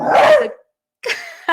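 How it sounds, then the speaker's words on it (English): A pet dog barks close by indoors, one loud bark, a short pause, then two quicker yips, with no other sound around it. "that's my dog."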